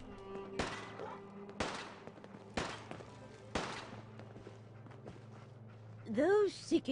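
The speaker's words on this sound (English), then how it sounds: "I kind of want to shoot that person so I don't have to listen to his gunshots anymore" Four loud gunshots ring out about a second apart in Fallout 4, each a sharp crack with a short tail over a steady game hum, followed by a brief warbling electronic sound at the end.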